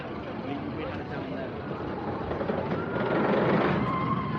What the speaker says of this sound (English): it's got a noisy lift hill, hasn't it